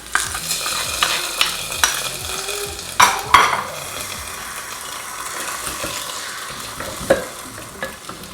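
Food frying in a pan with a loud, close sizzle, while a spoon scrapes and clatters against the metal in irregular bursts throughout.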